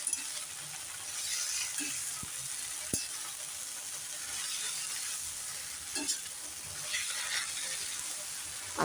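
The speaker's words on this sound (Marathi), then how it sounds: "आता ही भाजी चांगली आपण तेलावर परतून घेऊया" Fenugreek greens sauté in oil with browned garlic, producing a soft, steady sizzle with a few brief clinks and stirring knocks. No voices are heard.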